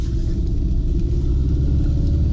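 An all-wheel drive Soviet GAZ 24-95 Volga prototype drives along, its engine a steady, loud low rumble heard from inside the car with no pauses.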